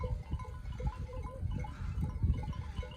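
Goats bleating on a hillside, several low, close calls scattered across steady outdoor background noise.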